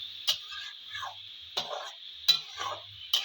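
Pulao rice stir-fried with reddish browned onions in a pan, heard as four sharp spoon-against-pan clinks spaced about a second apart, with soft scraping and sizzle between them over a steady high kitchen hiss.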